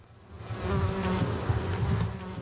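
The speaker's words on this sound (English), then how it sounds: "The buzz of swarming flies" A steady, continuous insect buzz of many flies swarming close by around a school bus with dead soldiers, droning without pause and slightly rising and falling in intensity.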